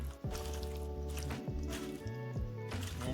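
Seafood salad being tossed with a garlic butter dressing, giving soft wet squishing and dripping sounds in short, irregular bursts, close by and moderately loud.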